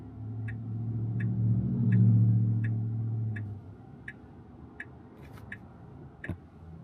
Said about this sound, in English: so we got hazard lights on